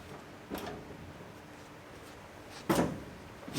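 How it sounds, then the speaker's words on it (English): Seat adjuster in a bagged Honda 1000SP being slid and locked into place: two short mechanical slides with clunks, the second louder, followed by a faint tail, under a steady low background hiss with no talking. "Adjuster works well. You can slide up, you can slide back, locks in."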